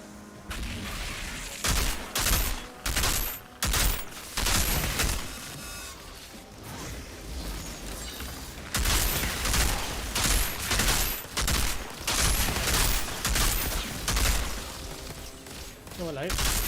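Sniper gunfire in the shooter video game Outriders, set in a desert: loud, repeated bursts and booming shots pound through a dense battle mix in long stretches, with a player's voice now and then.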